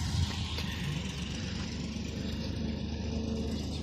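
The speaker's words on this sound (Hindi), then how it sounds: "फाइनली ट्रैक्टर भी स्टार्ट थी गया है" A tractor engine idles steadily and close by, a continuous low rumble with no speech over it.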